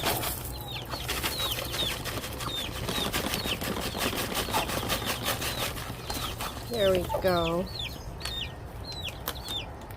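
Hens cluck repeatedly inside a backyard coop, including a broody hen, amid rustling, with a burst of louder squawking midway and a person speaking briefly.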